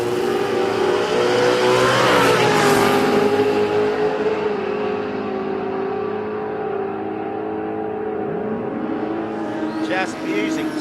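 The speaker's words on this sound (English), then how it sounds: "a couple of 2-valve engines, being Clevos and small blocks, just the sound they make" Loud, roaring two-valve Cleveland and small-block V8 drag racing engines at full throttle at Willowbank Raceway, Australia, a sustained harsh drone that shifts pitch as it builds, with a second engine sweeping past near the end.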